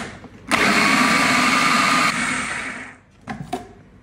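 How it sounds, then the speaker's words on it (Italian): An electric countertop blender whirs loudly, pureeing canned chickpeas with olive oil, running steadily for about two seconds, easing down and stopping, followed by a couple of short knocks. "Chiudo e frullo."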